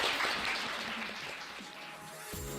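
Applause from the audience at a live career coaching show, a soft diffuse patter of clapping that fades slightly before a brief tonal sound at the end.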